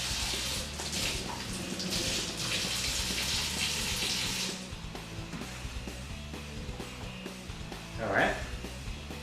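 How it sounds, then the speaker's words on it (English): Running water rinses a sausage casing fitted onto a stuffing tube, a steady splashing flow from a tap that eases after a few seconds, with a voice speaking over it. "Once we have the casing onto the tube, we want to rinse it with some water"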